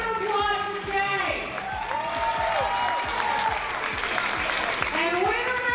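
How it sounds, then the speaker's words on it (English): Applause and cheering from an audience at a New York culinary competition event, dense steady clapping mixed with whoops and music-like tones, with a host's voice and crowd chatter layered on top throughout. "Let's give a big round of applause to Jay!"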